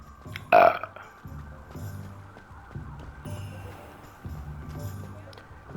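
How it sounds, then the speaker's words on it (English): A person burps repeatedly while drinking, giving a series of deep, guttural belches at an uneven rhythm, close and fairly loud, with a sharp brief noise near the start. "I'm drinking, that's why all the burping."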